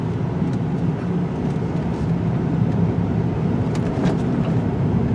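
A 2016 Jeep Cherokee Trailhawk 4x4 drives along a road with a steady interior hum of engine, tire roar and wind, constant and moderately loud throughout.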